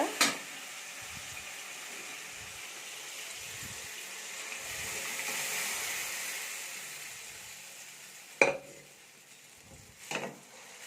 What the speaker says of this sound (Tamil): சேர்த்து ஒரு முறை நல்லா மிக்ஸ் பண்ணி விடுங்க